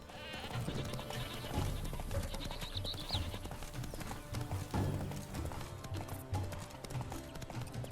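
Goats bleat amid clopping hooves and busy game sounds in The Witcher 3: Wild Hunt, with music playing underneath.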